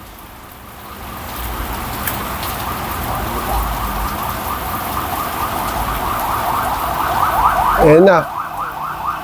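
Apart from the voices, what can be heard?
ambulance siren passing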